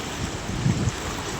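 Water from the flooded Tapi river near a barrage rushes in a steady broadband wash, a constant close roar with no distinct events and no speech.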